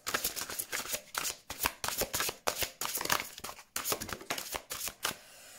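Oracle cards from a unicorn deck being shuffled by hand, close up: a rapid run of crisp papery riffling bursts in an uneven rhythm, with no talking.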